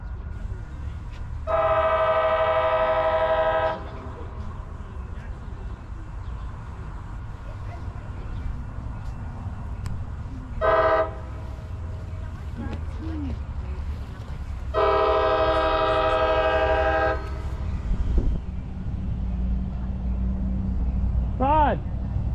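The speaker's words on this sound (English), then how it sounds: "your train's coming!" A passenger train arriving at a railroad location near Moorpark and Santa Susana blasts its horn in two long sustained calls with a brief toot between, under constant background rumble and people talking.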